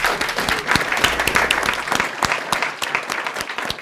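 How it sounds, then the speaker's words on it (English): A school board meeting audience gives a round of applause for a school principal and team, with close, sharp individual claps forming a lively, steady burst of clapping from a modest crowd. "give them a nice round of applause"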